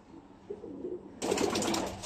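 Royal Teddy breeder pigeons coo softly and close by, a few low murmuring calls followed by a sudden burst of brighter, busier bird noise near the end.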